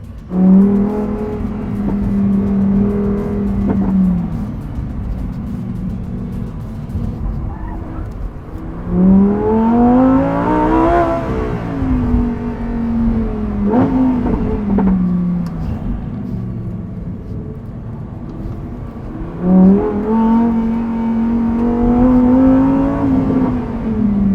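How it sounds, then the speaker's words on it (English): A Lamborghini Huracan with a shouty exhaust revs loudly and close up, its engine note repeatedly rising to a howl and falling back to a rumbling idle in several long sweeps. "if I were to have a Huracan, there's no other way I would want it. I would want it to be shouty."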